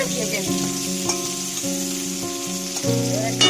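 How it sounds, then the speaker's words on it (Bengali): Potatoes frying in hot oil in a pan, a steady bright sizzle with crackling bubbling that holds throughout and swells briefly near the end. "তেলটা গরম হওয়ার পর আমি আলুগুলোকে ছাড়লাম, আলুগুলোকে এবার আমি লাল লাল করে ভেজে নিই"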